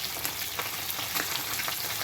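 Pabda fish fries in hot oil, turned over after one side browns, giving a dense, steady, close crackling sizzle with no voices.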